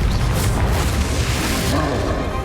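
A Confringo spell blast in Hogwarts Legacy erupts as a loud, continuous rumbling boom with heavy low-end roar, filling the short moment without pause.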